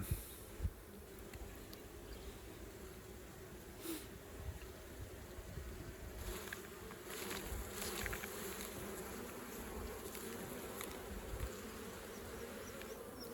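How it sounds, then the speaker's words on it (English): Honey bees drone steadily around an opened hive while a comb full of stores is lifted out, a dense, continuous buzzing swarm close by with faint knocks and handling noises, no voices. "I'll just try and leave all those bees behind and I can use this in another hive."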